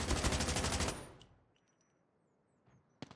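Rapid automatic fire from the Chopper light machine gun in COD Mobile, a loud, dense burst of shots that cuts off after about a second, leaving faint ringing tails and a couple of sharp distant pops.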